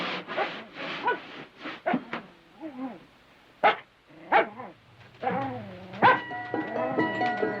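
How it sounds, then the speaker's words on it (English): A dog named Jack barks in a snowy prairie homestead, several sharp barks scattered among whimpers and yips, fairly close, with voices talking in between. "What's Jack barking about?"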